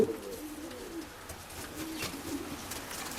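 Oriental Roller pigeons in a loft give soft, low coos that murmur steadily through the whole stretch, moderately close, with faint rustling and background noise.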